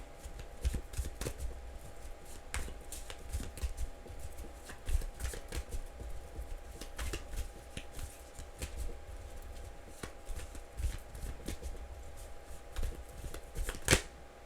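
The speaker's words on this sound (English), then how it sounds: "3 more shuffles and a split" Tarot cards being shuffled in quick, crisp riffles and taps, repeated in irregular bursts close by, with no talking.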